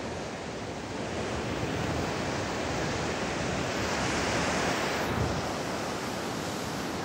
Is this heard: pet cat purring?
no